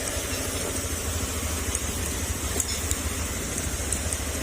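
Car engine running after repair, a steady low idle with a rhythmic mechanical rattle, close and constant with no talk.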